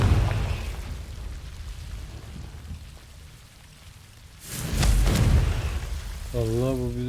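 A Confringo fire spell explodes in Hogwarts Legacy with a sudden loud whooshing burst partway through, after a stretch of rain-like hiss and low rumble. A voice speaks near the end.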